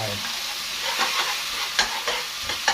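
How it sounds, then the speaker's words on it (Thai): Instant noodles and egg stir-fried in a pan, a steady sizzling hiss broken by scraping stirs of the spatula, close and fairly loud with no talk. "การผัดเนี่ยผัดไข่ทำให้ไข่มันรวนๆ"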